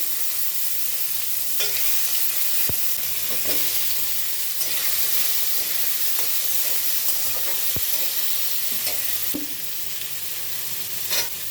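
Oil sizzles steadily in a kadai left over from frying fish as a curry cooks, a loud continuous frying hiss with occasional sharp clicks of a utensil against the pan and no talking.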